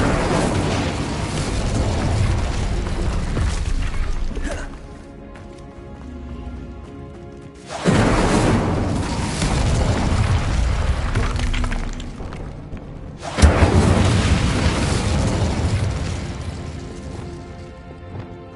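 Incendio fire spell blasts in a Hogwarts game: three loud, roaring bursts of crackling, shattering fire, each surging abruptly then sustaining for several seconds, with short quieter gaps between.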